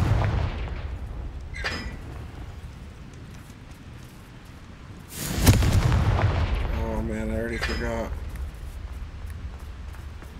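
A Confringo fire spell blasting in Hogwarts Legacy, landing as a loud booming burst midway through over a rumbling game soundscape, with someone talking through the clip.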